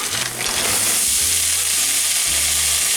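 Frozen corn from a 12-ounce bag sizzles and hisses loudly in a hot pan, a steady, close frying roar with a few low clunks from the pan, and no talking.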